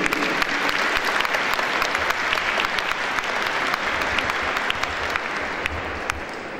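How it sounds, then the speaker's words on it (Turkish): Steady, dense applause from an audience at a Mevlana commemoration evening in Gemlik, Bursa, as a guest is invited to the podium; continuous clapping at even strength with a few sharp individual claps, no talk over it. "alkışlarınızla kürsüye davet ediyorum"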